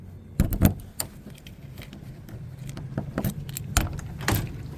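Keys jangling while locking the door of an Alliance RV trailer, with several sharp metallic clinks and rattles scattered over a few seconds, close and fairly quiet.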